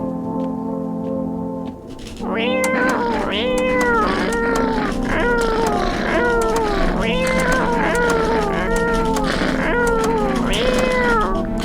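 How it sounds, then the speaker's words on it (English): Cat meows repeat in a steady, insistent run from a cat in the horror video game No, I'm Not A Human, loud and close over a low humming background, following a brief pause near the start. "There's got to be an achievement for petting the cat"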